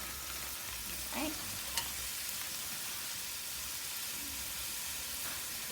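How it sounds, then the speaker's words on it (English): Carrots and other vegetables fry in a pan for fried rice while a spoon stirs them, giving a steady close sizzle and hiss with a few soft scrapes and clinks. "Take my spoon, give that a nice stir. Let those veggies start frying up."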